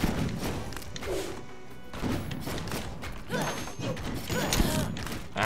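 In the video game Rogue Legacy, a rocket strikes the player character with heavy thuds and crashing impacts, packed into a busy, loud stretch of game sound lasting several seconds.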